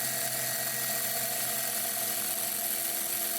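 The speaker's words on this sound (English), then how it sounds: "We're just using the grinder to kind of carve the head of that screw" A steady, high-pitched mechanical whine of a grinder carving the head of a screw for a Hobie 16 catamaran gudgeon, running continuously, close and loud, with no talking.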